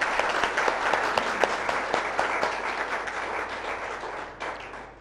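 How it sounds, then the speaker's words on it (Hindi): An audience at a health centre gathering gives a guest a hearty round of applause, a dense patter of many hands with a few sharper close claps, fading slightly at the end. "जोरदार तालियां हो जाए हमारी बहन"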